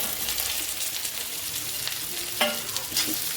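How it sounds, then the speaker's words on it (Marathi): Okra frying in a pan with cumin and crushed red chili gives a steady close sizzle, broken by a few light stirring scrapes and clicks. "जिरं आणि ही कुटलेली लाल मिरची छोटी ती थोडी टाकू. त्याच्यामध्ये आपण भेंडी टाकू"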